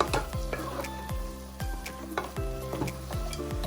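Raisins and cashews being stirred into pineapple rava kesari in a hot pan, with repeated scraping strokes of a spoon against the metal and a soft sizzle underneath.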